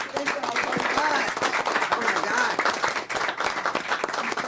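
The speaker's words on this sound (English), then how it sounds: "We'll do a clap." Audience applause and clapping from a crowd gathered to thank an emergency operations team, a steady dense patter of many hands lasting throughout, with voices talking over it.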